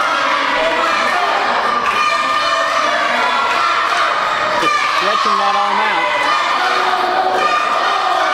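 Wrestling crowd at an indie UWC show cheering and shouting steadily throughout, a dense roar of voices at constant level under a commentator talking over it.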